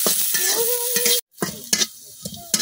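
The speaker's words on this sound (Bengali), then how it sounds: "রসুন গুলা খুব ভালোভাবে বাজে নিলাম।" Garlic frying in a pan for a Bengali mashed-vegetable dish: close sizzling with stirring scrapes and a thin whine, cut off by a sudden silent gap, then resuming in irregular bursts of spatula scraping.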